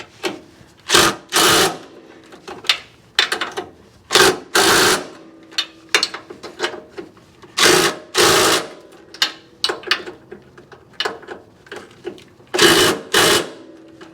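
A ratchet wrench tightens transmission mount bolts on a first-generation Toyota Tacoma, giving loud bursts of fast metallic clicking in irregular spurts with brief pauses between, close to the mic and with no talk.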